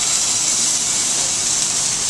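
Alaskan king salmon fillet searing skin-side down in smoking hot oil in a sauté pan, a steady, loud, broadband sizzle and hiss that holds evenly throughout with no talk.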